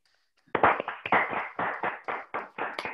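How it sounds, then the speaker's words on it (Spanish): A short burst of scattered clapping from several people over a video call, a bit thin and compressed, starting after a moment of silence and continuing steadily. "vamos a darte un aplauso, abrir los micrófonos y una palma"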